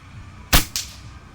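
An M3 PCP air rifle with a Taiwan regulator and MK-008 barrel fires once, a sharp loud crack followed by a quicker second snap, alone against quiet outdoor background.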